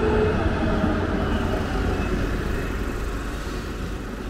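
A tram in Munich rumbles along steadily nearby, a continuous low rolling noise with faint squeal, slowly fading a little.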